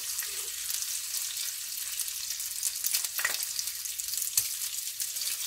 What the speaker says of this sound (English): And that piece of bacon is going to cook.